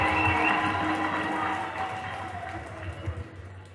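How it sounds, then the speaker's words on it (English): A room full of people applauds together for a firstborn son at a gathering honoring Benedict Daswa, a steady, dense wash of clapping that fades slightly toward the end. "Can everyone stand and give him a round of applause?"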